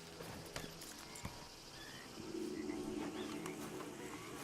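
Quiet, rhythmic clip-clop of horse hooves on a hard surface in the video game Red Dead Redemption 2, a few sharp knocks standing out amid soft ambient noise.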